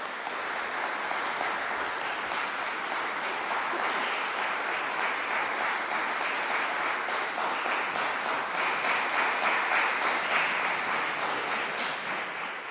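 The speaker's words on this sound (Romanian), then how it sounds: "Mulțumim frumos că îi aplaudați încă o dată" A concert audience applauds chamber musicians in a university hall, steady dense clapping that holds at an even level from start to finish with no talk over it.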